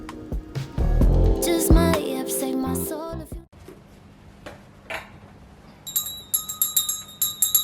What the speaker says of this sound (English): I had to start off by ringing the bell